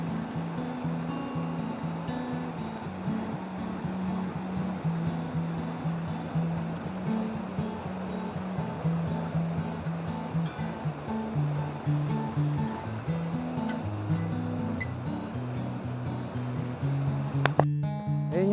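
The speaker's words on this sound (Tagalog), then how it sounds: "Ayan yung falls, mini falls." A small waterfall at Sta. Lucia Falls in Dolores, Quezon, gives a continuous rushing wash of falling water, with a low mechanical hum and faint voices mixed in underneath.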